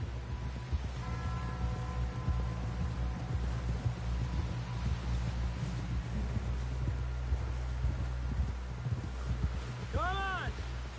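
Horse hooves clip-clop at a steady walking rhythm in Red Dead Redemption on PS4, close and continuous over a low rumble and wind, with a brief rising call near the end.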